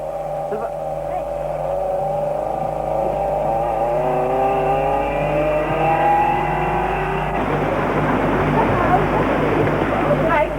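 A Premier Padmini Dolphin car in the 1984 K1000 international rally in India drives past steadily, its engine droning and rising in pitch, with a commentator talking over it and a rougher rush of noise near the end.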